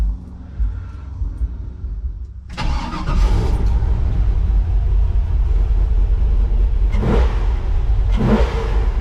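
An LS V8 car engine with drive-by-wire throttle catches and settles into a loud, steady idle rumble, then gets two sharp revs near the end, each rising and falling quickly.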